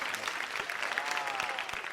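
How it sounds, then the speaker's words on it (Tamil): A loud, dense burst of applause from a studio audience at a televised talent show's finalist announcement, sustained evenly across the whole moment with no talk over it. "ஒரு பலத்த கரகோஷம் கொடுத்துடலாம்."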